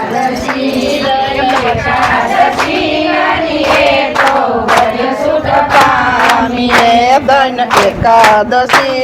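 Women of a devotional satsang group clap their hands in a steady, loud rhythm, sharp claps repeating about twice a second under their group singing.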